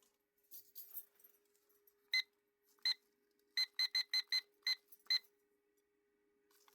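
A kitchen timer being set for 45 minutes gives a series of short, sharp electronic beeps, two spaced out and then a quicker run of six, clear and close in an otherwise quiet room.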